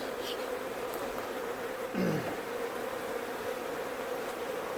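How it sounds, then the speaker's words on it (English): Honey bees drone in a continuous, even buzz around an opened hive during an inspection after being smoked, close and unbroken, with no voices. "got a fair number of bees hanging out on the inner cover and the entrance"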